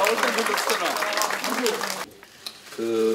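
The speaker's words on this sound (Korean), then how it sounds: "큰 박수로 격려해 주시기 바랍니다" Applause from the audience at a Democratic Party floor leader election event, a thick wash of clapping for about two seconds that cuts off abruptly, followed by quiet and then a voice speaking.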